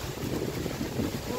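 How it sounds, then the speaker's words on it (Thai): Strong wind buffeting the microphone outdoors while seedlings are potted, a loud, continuous rumbling gust noise filling the whole moment. "ลมแรง"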